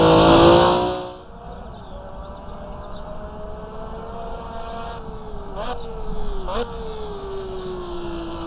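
A vintage car engine in the racing game Assetto Corsa, with a loud burst of revving at the start, then a steady drone that rises and falls briefly on the upshifts, heard alone.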